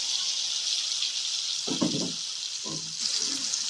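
Spice paste hits hot oil in a kadai with a steady hiss of frying. Two short bursts of stirring or spattering rise above the sizzle.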